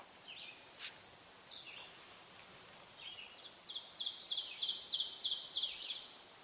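Faint birdsong in quiet woodland at a backcountry campsite: scattered high chirps from an ovenbird and a red-eyed vireo, then a repeated rhythmic chanting song building louder over the last few seconds.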